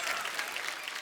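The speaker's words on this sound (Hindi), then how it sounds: "जोरदार ताली से स्वागत कीजिए Varun Dhawan and John Abraham का" A studio audience on a comedy talk show claps enthusiastically to welcome guests, a dense, continuous burst of applause throughout the short moment.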